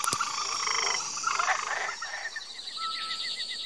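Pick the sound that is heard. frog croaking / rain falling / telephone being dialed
frog croaking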